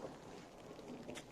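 Thunder rumbles during a dry, windy storm with light drizzle, a faint, steady, distant roll under soft rain and wind noise, with no talk.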